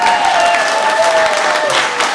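Church congregation bursting into loud sustained applause after a fundraising announcement at a Sunday service, many hands clapping in a dense continuous wash over a faint lingering tone.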